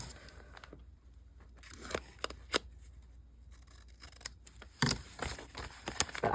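Scissors trimming collage paper for a landscape piece, a series of close, crisp snips spaced irregularly with soft paper rustling between cuts, quiet room, no talking.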